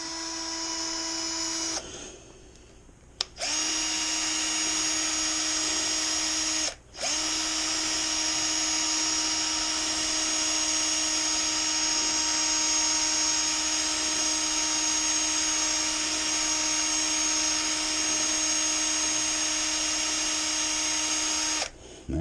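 A handheld power drill whirs steadily as it stirs bentonite into a batch of pear and peach wine, a loud, close, high-pitched motor drone that cuts out briefly twice, then restarts and runs on until stopping at the end.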